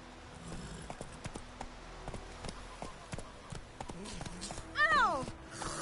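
The horse Roach gallops in The Witcher 3, a quick steady clip-clop of hooves under game ambience, with someone talking over it.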